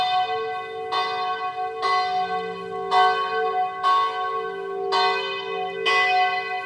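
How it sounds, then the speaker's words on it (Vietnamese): Church bells ring at a Catholic parish church on a feast day, a steady, resonant peal of strokes about once a second with long ringing tails, loud and unaccompanied by talk. "Chuông nhà thờ bây giờ bắt đầu đổ."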